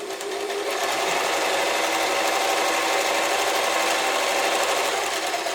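A German-made Singer 720 sewing machine chain stitches a straight seam in fabric, a loud, steady, rapid mechanical whir that runs unbroken throughout with no talking.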